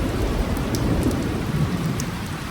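Steady, heavy rain pours down throughout a thunderstorm, with a dense continuous wash and low rumbling thunder beneath it; no voices.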